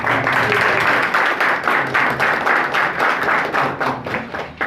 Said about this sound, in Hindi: ऐसी शख्सियत हमारे बीच सुनीलाल जी हैं, जोरदार तालियों के साथ इनको